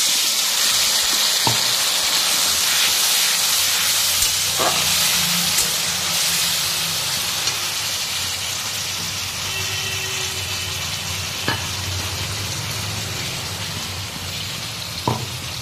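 Potato and papaya sautéing with ginger, cumin and green chilli paste in a pan, a loud, continuous hiss of frying with occasional faint knocks, close and steady throughout.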